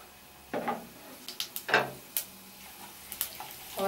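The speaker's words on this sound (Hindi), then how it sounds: "अब हम इसी तेल में जीरा डालेंगे।" Cumin seeds sizzle in hot oil left over from frying potatoes, with a spoon clacking and scraping against the pan in short, separate strikes over a faint sizzle underneath.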